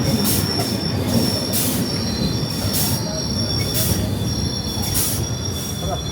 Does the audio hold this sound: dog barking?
no